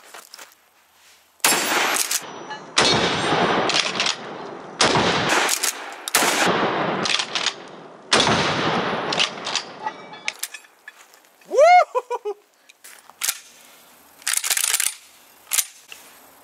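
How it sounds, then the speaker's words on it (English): Shots from an Akkar Churchill Shockwave-type short-barreled shotgun on an outdoor range, about eight loud, sharp blasts spread unevenly with brief gaps, plus a few clicks and mechanical clacks of the action cycling. "Churchill Akkar, shorty shotgun, shockwave type deal."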